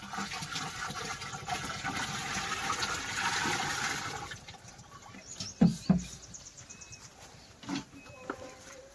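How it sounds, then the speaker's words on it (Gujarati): Water poured into a 200-litre drum outdoors, a continuous rushing splash for about four seconds, then quieter with scattered knocks and bumps. "તો આ રીતે 180 લીટર પાણી લેવાનું 200 લીટરના પીપમાં અને 10 લીટર ગૌમૂત્ર લેવાનું"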